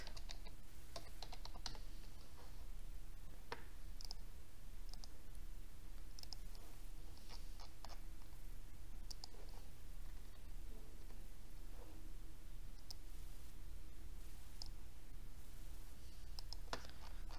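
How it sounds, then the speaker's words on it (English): Steady typing on a computer keyboard, a long run of quick, light key clicks in an uneven rhythm, close but quiet, with no voices. "Type the text."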